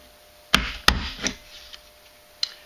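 Several sharp punches press through a paper card strip, four crisp percussive snaps with gaps between them, close and fairly quiet with no talking.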